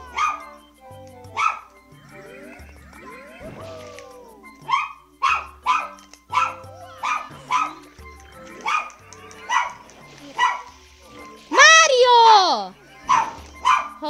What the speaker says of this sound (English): This is what happens when you have a dog that sometimes just won't shut up